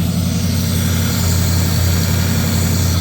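The engine of a 1934 Ford idles loud and close with a steady, even rumble and no voices.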